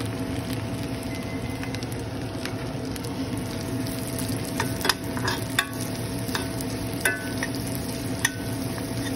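Plenty of garlic sizzles steadily in a pan while cooking chicken sisig, with intermittent sharp scrapes and taps from stirring over the constant frying hiss.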